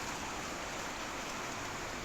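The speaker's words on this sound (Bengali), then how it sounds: "দেখো কত বৃষ্টি পড়ছে।" Morning rain falls as a steady, even hiss of broadband noise with no distinct drops or pauses, moderately quiet and with no one speaking.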